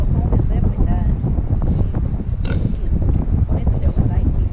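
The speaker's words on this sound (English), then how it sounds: "You're a good pig." A pig at a state park farm grunts and oinks amid strong wind buffeting the microphone, with the animal's low snorts partly buried under the rumbling gusts.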